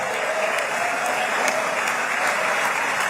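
Sustained applause from a large audience at a formal Gaza deal signing event in Egypt, dense continuous clapping with faint voices and cheering mixed in throughout.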